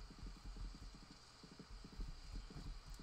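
Horse hooves clip-clop in a quick, steady rhythm in the farming game Stardew Valley, faint and continuous for a few seconds with no talking.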